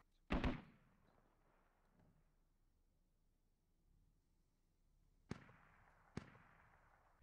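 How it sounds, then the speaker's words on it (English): Mortar fire explodes in the Squad military video game: one sharp blast opens, followed by a quiet stretch of distant rumble, then two more sharp impacts close together near the end. "but those mortars are directly on him."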